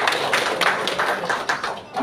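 An audience at a meeting in a press club hall gives a short round of scattered clapping, with a speaking voice mixed in beneath it.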